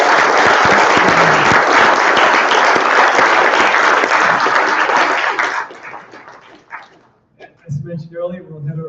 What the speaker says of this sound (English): let's give a round of applause for Travis